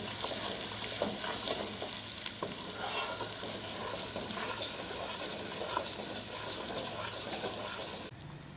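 Chana masala with salt roasts in a pan for restaurant-style cholay, a dense, even sizzle with faint stirring scrapes running throughout at moderate distance.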